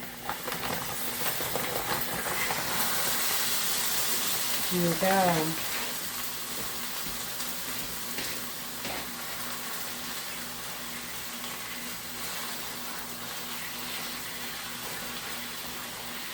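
Two pounds of beef sizzle in a hot skillet, a steady, loud, close frying hiss that runs the whole time, with a brief spoken phrase near the start.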